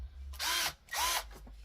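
A Dnipro-M CD-12QX cordless drill-driver whirring up in two short, close bursts of drilling, each about a third of a second long, with a faint low hum between them.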